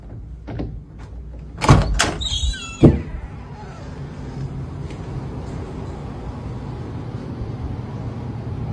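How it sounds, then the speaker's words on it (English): A door is opened with a couple of loud close clunks and a brief rattle, followed by a steady low rumbling background. "I'm gonna open this door and it's gonna stop."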